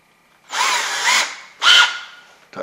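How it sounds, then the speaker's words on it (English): A power drill spins a wire-twisting tool used to twist neutral wires with a pigtail for an electrical outlet box: two close bursts of whirring, a longer one then a shorter one, with a brief third start at the end. "put it in our drill"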